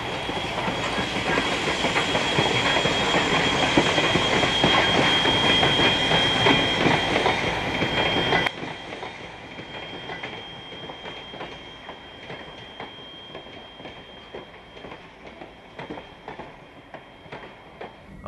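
B&O S1 steam locomotive backing eastbound on the Sand Patch grade, with loud rolling rail clatter and hiss that drop off sharply partway through to a quieter, uneven clicking of wheels on track.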